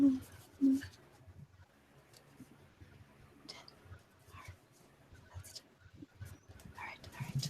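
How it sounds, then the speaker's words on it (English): A dog waiting outside a door to be let in whimpers and makes soft whining and snuffling sounds, close and fairly quiet, with a couple of louder yelps at the start and faint voices nearby. "The dog wants to come in."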